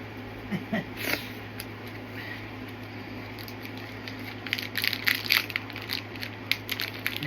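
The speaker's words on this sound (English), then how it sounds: "Now it's time to open that booster pack." Crinkly plastic crushing and rustling as a Pokemon TCG booster pack wrapper is torn open, with a sharp crackle early on and a busier burst of crinkling near the end over a steady low hum.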